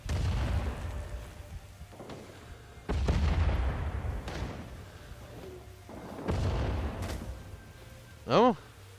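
Grenade blasts in Rising Storm Vietnam boom repeatedly at irregular intervals, some distant and some closer, amid battlefield noise, with a voice talking in between.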